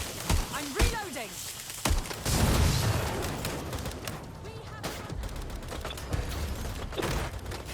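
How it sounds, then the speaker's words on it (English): Gunfire from Watch Dogs Legion crackles in sharp bursts and single shots, loud and close, mixed with shouting voices and game noise. "I'm being shot at here!"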